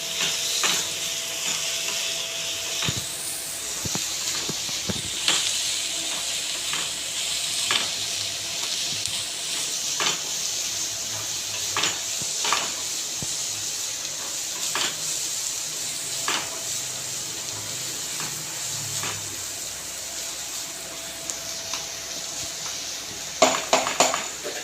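Ingredients for broken-wheat upma fry in a pan, with a steady sizzle and hiss under regular scraping stirs and occasional clinks of a spoon on metal, close and with no talk.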